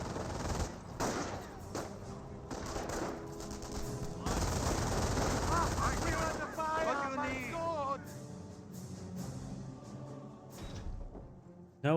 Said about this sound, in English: We've got a landmine being exploded.